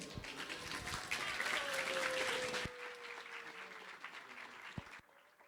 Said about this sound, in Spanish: Recibámoslos con un aplauso de bienvenida